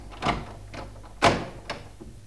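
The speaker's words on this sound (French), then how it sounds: "Et Mick, referme la porte à clé." A door being closed and locked with a key: two distinct knocking thuds with smaller clicks between and after, close by and fairly faint, with no talking.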